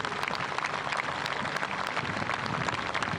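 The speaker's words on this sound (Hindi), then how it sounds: "एक बार जोरदार तालियों से अपना आभार व्यक्त कीजिए।" Crowd applause at an Indian Navy Day ceremony in Sindhudurg, Maharashtra, a dense, steady patter of many hands clapping that fills the whole stretch without voices.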